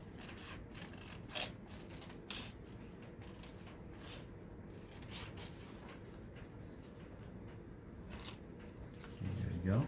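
Scissors cut paper for a spring bird craft, giving quiet, close snips and rustling rubs in an irregular rhythm, with a slightly louder handling noise near the end.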